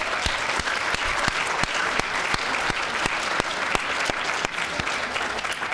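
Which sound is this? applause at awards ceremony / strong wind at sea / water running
applause at awards ceremony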